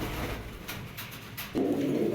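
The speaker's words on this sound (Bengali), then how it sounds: "এটা 6টা রেস করে একটা কবুতর।" A tagged racing pigeon with six races behind it, from a Bangladeshi racing club, set down on the ground, gives soft coos and brief fluttery bursts, with a louder, steadier burst near the end.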